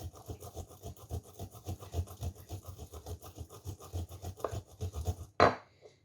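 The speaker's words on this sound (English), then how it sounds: "It's grating the flesh and leaving the skin on a little bit more" Fresh ginger is grated on a grater in quick, even rasping strokes, a close rhythmic scraping that repeats steadily before ending with a sharp clack.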